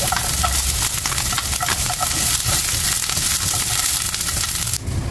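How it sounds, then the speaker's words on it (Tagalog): Onion and garlic sauté in a hot pan with a dense, continuous close sizzle and crackle, cooked after frying tofu for a chicken adobo dish, with no talk. "Saka natin igisa yung sibuyas,"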